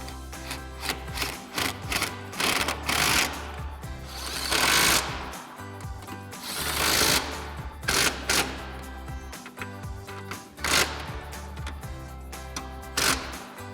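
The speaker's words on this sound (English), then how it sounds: "So now we'll go ahead and grab our 14mm socket on our impact and go ahead and tighten down our mounting nuts." Impact wrench with a 14mm socket tightening coil-over mounting nuts on a 2016-2024 Chevrolet Camaro SS, several loud, rapid hammering bursts of a few seconds each, separated by short pauses.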